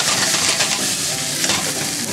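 Food sizzling over high heat in a pan in a home kitchen, a steady dense hiss filling the whole stretch, close and fairly loud, with no speech.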